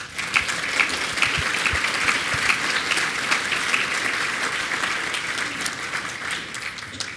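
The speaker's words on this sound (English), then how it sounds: "So I'd like to give them a round of applause." An audience at an advanced manufacturing supply chain and talent event applauds, a steady spread of many hands clapping with distinct individual claps standing out, sustained at an even level throughout.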